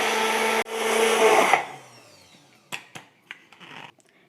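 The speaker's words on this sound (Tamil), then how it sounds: "இந்த கரம் மசால் பொடியை நல்லா நைஸாக அரைச்சிக்கலாம்." A small mixer grinder whirs loudly for about a second and a half, pausing briefly once, then stops while grinding garam masala spice powder; a few light clinks and taps follow.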